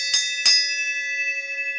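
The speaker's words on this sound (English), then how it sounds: "Time to ring the bell." A bell in a garage strikes twice in quick succession, each ring leaving a clear sustained tone that hangs on alone after the second strike.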